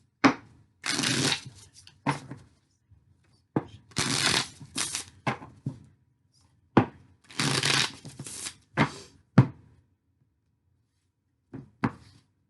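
Tarot cards are shuffled in repeated crisp riffling bursts, close and fairly loud, with short pauses and soft taps between them and no talk.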